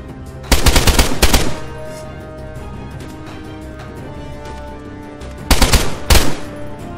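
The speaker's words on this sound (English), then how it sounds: "Yeah, that's me shooting at him." Two close, loud bursts of automatic gunfire from the player's own weapon in the military shooter Arma 3, each a rapid string of sharp shots, separated by several seconds of quieter game ambience.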